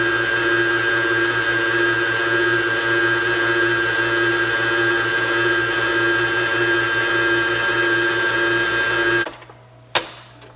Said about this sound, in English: We're going to use the stand mixer for the dry ingredients